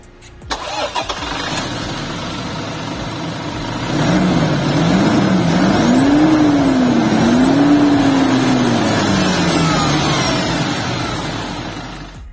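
A Toyota GranAce with a 2.8-litre 1GD turbo diesel engine cranks briefly, then fires up and settles into a steady close idle after a rev flare, with a whine rising and falling above it and no talking.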